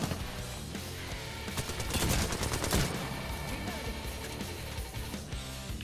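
Dense gunfire in the video game Apex Legends, with rapid bursts of shots over a busy game mix of effects and music, most intense in the middle and steady throughout.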